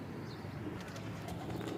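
Pet pigeons coo softly at a rooftop loft, faint low murmuring calls over a brief stretch with light background noise and no talking.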